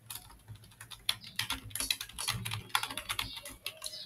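Quick, uneven key clicks on a computer keyboard as a command is entered, a quiet run of taps with short bursts and brief pauses.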